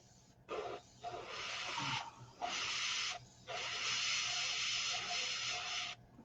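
An airbrush sprays paint onto a green-skinned figure in a series of close, airy hissing bursts. Short spurts with brief pauses lead into one long sustained spray, with no voices.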